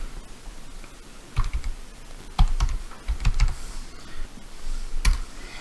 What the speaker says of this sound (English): if I just type in handyman